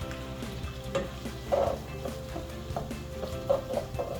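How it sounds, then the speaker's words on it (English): Ground beef with onion and garlic sizzling in a pan, a low continuous crackle with a few louder spatters and stirring scrapes, fairly quiet and close. "I'm just going to kind of let this simmer, about another minute, so the garlic can get nicely mixed into the ground beef and the onion"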